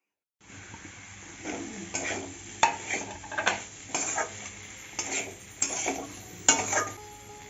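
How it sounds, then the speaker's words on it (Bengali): Potato, carrot and beans are stir-fried in a pan for a broccoli curry, with a soft steady sizzle and irregular scraping strokes of a spatula against the metal every half second or so, close and fairly loud. "এখন আলু গাজর আর বিন দিয়ে ভালো করে কষিয়ে নেব"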